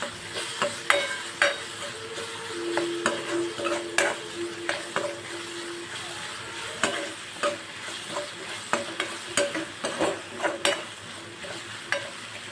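Ginger, chili and garlic paste frying with onions in a pan, a close steady sizzle broken by frequent irregular clinks and scrapes of a spoon stirring against the metal, with no talking.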